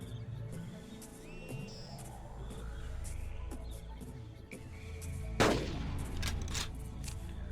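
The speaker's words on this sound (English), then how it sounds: "One rifle shot brings the horned dinosaur down" A single rifle shot rings out in the dinosaur-hunting game Carnivores, one sharp, loud crack about two-thirds of the way through, over quiet outdoor ambience with faint bird calls.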